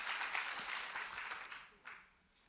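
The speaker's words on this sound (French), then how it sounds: "On peut l'applaudir." Audience applause at a French colloquium on transmitting a political transition project, heard as a faint, steady wash of clapping that fades, swells briefly near the end, then dies away.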